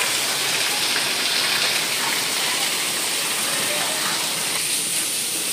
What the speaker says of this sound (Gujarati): અત્યારે વરસાદ છે ને ચાલુ જ છે.